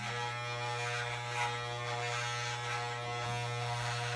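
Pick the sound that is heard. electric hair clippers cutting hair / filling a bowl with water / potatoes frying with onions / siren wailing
electric hair clippers cutting hair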